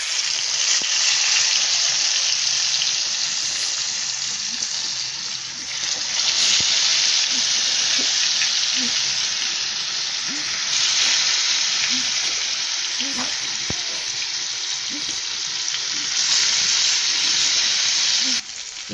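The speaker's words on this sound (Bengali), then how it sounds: "এখন এটার ভিতরেই আমি মাছ ভাজি করব" Salted, turmeric-rubbed tilapia fries in hot oil with a loud, continuous sizzle and hiss that swells and eases in waves, with a few soft pops and no speech.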